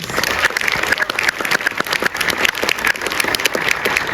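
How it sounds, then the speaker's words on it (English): An audience at a film screening gives a round of applause, lively and uneven clapping from many hands with individual claps standing out, sustained throughout at fairly close range. "if you could please join me in just another round of applause for these amazing stories"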